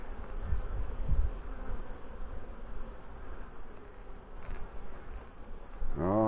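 Honey bees buzz steadily around an open hive during an inspection, a dense, continuous drone close by that swells slightly near the end.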